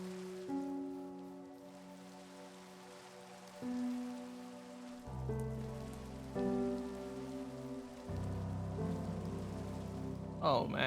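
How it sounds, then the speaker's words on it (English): Rain falls steadily as a soft, constant patter across surfaces, faint and continuous under layered tones of background music. "I told you it's raining."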